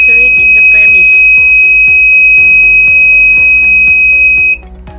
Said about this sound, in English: This buzzer will alert the visitor for not over entering in the premise.